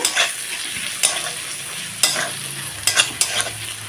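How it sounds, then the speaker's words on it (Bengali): Spices with chilli, turmeric and coriander powder fry in oil for a soya chunk biryani, a steady close sizzle punctuated by several sharp spatula scrapes and taps against the pan. "হলুদের গুঁড়ো আর দেবো ধনে গুঁড়ো দিয়ে ভালো করে কষিয়ে নেব"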